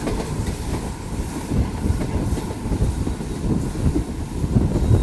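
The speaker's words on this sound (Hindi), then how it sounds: "खैरपुर स्किप कर रही है ग्रीन लाइन 8:11 पे।" A Green Line passenger train passes Khairpur station without stopping, heard as a steady rumbling roll with rhythmic clickety-clack of wheels, mixed with wind buffeting the microphone.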